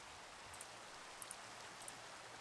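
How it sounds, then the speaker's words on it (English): Steady rain in Minecraft, a soft, even hiss of falling drops with a few faint ticks, heard alone and fairly quiet throughout. "And it's raining."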